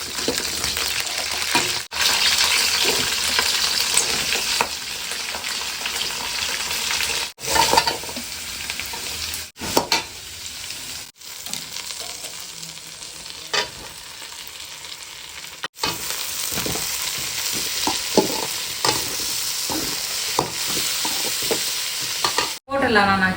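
Vegetables and sour greens (puliccha keerai) sautéing in oil in a village kitchen, a steady loud sizzle with stirring scrapes running throughout, briefly dipping a few times.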